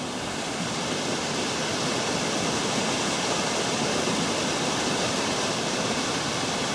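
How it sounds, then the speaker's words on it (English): Steady broadband rush of a waterfall at Mooney Mooney Ponds in Brisbane Water National Park on the Great North Walk, a continuous close roar of falling water with no voices over it. "Oh, you got another waterfall here."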